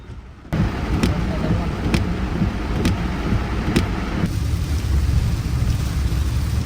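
Heavy rain drums steadily on a car driving in Ahmedabad, with a rhythmic swish about once a second over loud, constant road noise.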